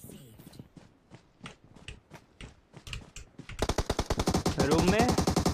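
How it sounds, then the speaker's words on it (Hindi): PUBG Mobile match with rapid game gunfire: scattered single shots and clicks, then a dense automatic burst in the last two seconds, loud and close, with a player talking faintly over the first part. "अरे अरे यार रिलोड ही कर लो न्यूक्लियर, तुम दो गोली चला के आदत हो गई"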